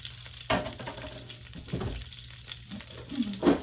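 Butter melting in hot oil for a Cajun salmon pasta sauce gives a soft, steady frying sizzle with a few brief clinks and stirring sounds, close by and without talk.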